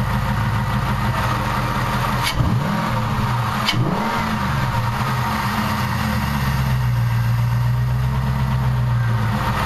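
A Jeep 4.7 V8 fitted with a 75mm throttle body idles steadily and loud, with two brief revs blipping up near the start before settling back into an even, rumbling idle.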